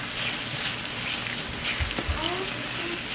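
Marinated onions frying in a pan give off a steady, dense sizzle at close range, with a few soft stirring knocks near the middle.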